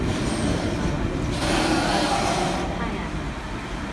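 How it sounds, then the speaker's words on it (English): A grain train begins pulling away, a loud continuous rumble of rolling rail cars swelling in the middle, with voices faintly present. "Train just started leaving"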